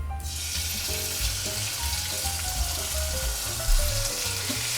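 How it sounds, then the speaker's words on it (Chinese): Shredded meat stir-frying in a wok for a potato and shredded pork dish, a loud continuous hiss and crackle close up with a low steady hum underneath and one sharper clatter near the end. "好，现在要炒肉了"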